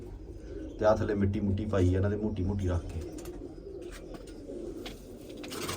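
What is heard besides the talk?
pigeons cooing in a loft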